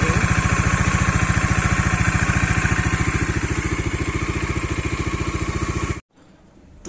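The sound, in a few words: Bajaj Dominar 400 motorcycle engine running after rebuild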